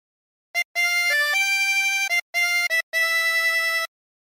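A 16-hole tremolo harmonica plays a phrase of O Christmas Tree: a few short blown and drawn notes followed by longer held ones with a wavering tremolo, close and alone in silence.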